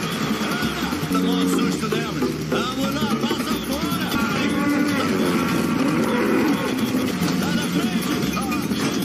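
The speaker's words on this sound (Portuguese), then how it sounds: "Tem vaca, olha lá, na pista." Cattle moo in long low calls, several animals overlapping, amid loud constant rumble and people talking and shouting nearby.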